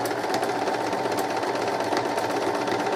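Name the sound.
sewing machine stitching fabric edges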